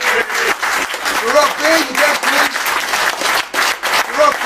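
Conference audience applauding, a full room of clapping that stays loud and continuous throughout while someone speaks over it.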